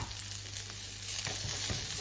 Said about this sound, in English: Let that brown in that olive oil and beef fat